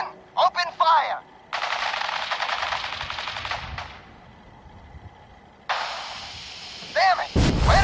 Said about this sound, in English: Men, open fire!